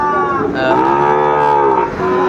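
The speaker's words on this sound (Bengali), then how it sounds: "বেশ সুন্দর সুন্দর গরুগুলো কালেকশন করছে সাদত ভাই" A loud, close moo from a Sahiwal cow, long and drawn out with a rising then falling pitch, heard alone.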